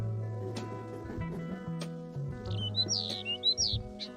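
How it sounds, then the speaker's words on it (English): Several short, high bird chirps near the end, over a low steady hum and some background clatter. "Listen to the birds when they chirp."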